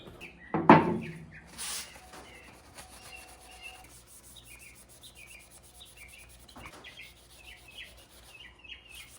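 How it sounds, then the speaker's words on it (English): A dirty all-terrain tire wheel being scrubbed with paint thinner: a loud rubbing burst at the start, then quieter intermittent scrubbing and scraping nearby, with no voices. "Even after scrubbing it clean with paint thinner, it's still dirty."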